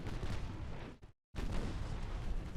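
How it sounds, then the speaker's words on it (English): Naval artillery gunfire in the warship battle game Ultimate Admiral Dreadnoughts, a loud, dense, continuous roar of cannon fire broken by a brief silent gap before the barrage resumes. "we're here for the gunfire"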